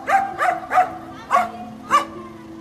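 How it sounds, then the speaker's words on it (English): A dog barks five times in short, sharp bursts, three quick ones then two spaced apart, close and loud over a faint low hum. "He barks at every car to stop them before the zebra crossing"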